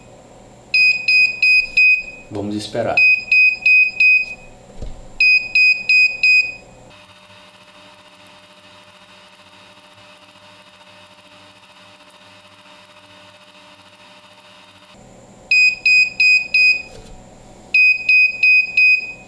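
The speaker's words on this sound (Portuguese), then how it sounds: "Agora eu vou desativar o alarme." A homemade mains-synchronized digital clock sounds its alarm: loud, evenly spaced electronic beeps in rapid bursts, switching midway to a steady run of higher pulsing beeps, then back to the grouped beeps, with a brief voice and handling noise early on.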